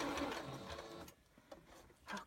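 A sewing machine stitches fabric in a short close burst, its motor whirring and needle chattering, then pausing briefly before a few more stitches.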